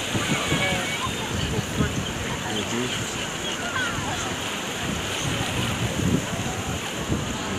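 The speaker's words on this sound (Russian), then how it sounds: "Блин, волна ушла. Волна только что была." Continuous rushing surf and wash of sea waves on an Odesa beach with wind noise, and voices talking faintly in the background.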